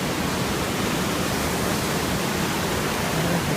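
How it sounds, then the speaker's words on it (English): A mountain creek rushing steadily along an alpine trail, a dense, even hiss of flowing water that stays loud and close throughout. "The creek coming down that way, and the creek going down that way"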